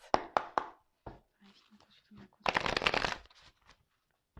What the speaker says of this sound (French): Donc je vais prendre quelques cartes pour voir qu'est-ce qu'il se passe.